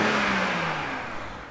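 A BMW 330Ci moves off a workshop ramp, its engine note rising in a smooth rev with a steady mid-range whir, fairly close and alone, easing slightly toward the end.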